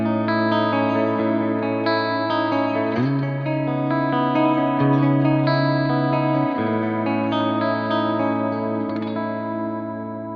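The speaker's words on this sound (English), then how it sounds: "First, let's hear the clean sound." Clean electric guitar tone from a CorOS 3.0.0 preset, playing sustained chords and ringing notes, smooth and shimmering with a touch of echo, loud and alone.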